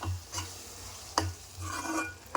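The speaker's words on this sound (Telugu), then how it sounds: "ఒక కప్పు పెరుగు తీసుకొని స్టవ్ చిన్నగా పెట్టుకొని కలుపుకోవాలండి" A cup of yogurt being stirred in a pan over a low flame while making cauliflower egg curry, a soft sizzle and hum with a few distinct spoon scrapes and taps against the pan.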